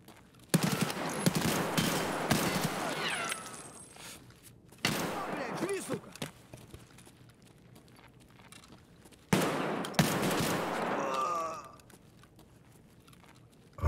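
A Saiga shotgun loaded with flechette rounds and large magazines fires in Escape From Tarkov: three loud bursts of rapid, crackling shots separated by quiet gaps, with a voice talking between them.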